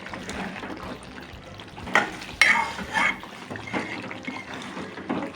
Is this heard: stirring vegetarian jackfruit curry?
yes